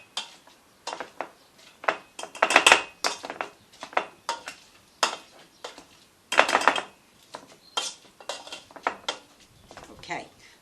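Sweet potato is mashed in a pan with a metal masher, giving repeated uneven clinks, scrapes and knocks on the pan in an irregular rhythm, close and fairly loud.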